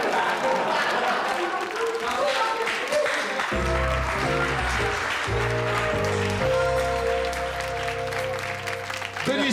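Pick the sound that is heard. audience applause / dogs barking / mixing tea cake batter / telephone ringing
audience applause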